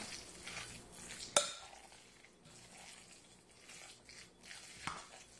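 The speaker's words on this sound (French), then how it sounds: "Puis on mélange." Tuna and egg salad being stirred in a bowl, a soft continuous mixing with utensil scrapes and one sharp clink of metal against the dish, faint and close, with no talking.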